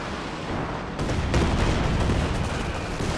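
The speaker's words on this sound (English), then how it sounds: "There's a bit of Katyusha action." Katyusha rocket artillery firing in Company of Heroes 2, a sudden loud rushing salvo of launches and booms that carries on as a continuous roar.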